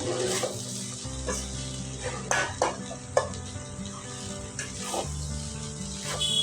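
Tomato rice in a pan over a low flame gives a soft, continuous sizzle while a spoon stirs and scrapes at irregular intervals, with a few sharper clinks against the pan.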